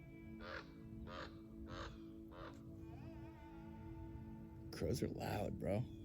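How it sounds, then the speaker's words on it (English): Several crows caw in a rhythmic series of four harsh calls, then after a pause a louder, closer burst of overlapping caws, with low background hum beneath. "Crows are loud, bro."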